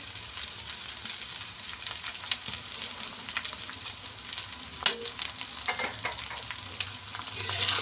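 Flattened rice (poha) with turmeric, salt and coriander being stirred and mixed in a hot pan, a steady close sizzle with continuous scraping and light clinks throughout, no talking.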